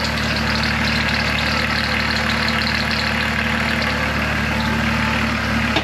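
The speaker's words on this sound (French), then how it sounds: "Ça c'est le moteur du TDS noir." The engine of a black TDS prototype with a worn belt runs at a steady, loud idle, a constant throbbing drone with no voices over it.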